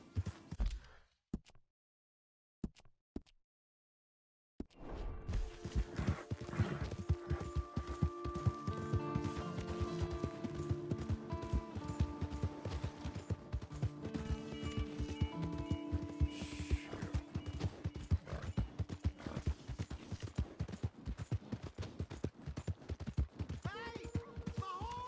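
Horse hooves clip-clop and a horse whinnies in the video game Red Dead, mixed with game music and speech after a few near-silent gaps at the start.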